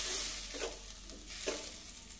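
Tomato paste frying in a pan, a steady faint sizzle broken by a couple of soft stirring scrapes, with no talking.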